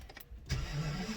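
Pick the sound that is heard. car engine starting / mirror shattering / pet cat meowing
car engine starting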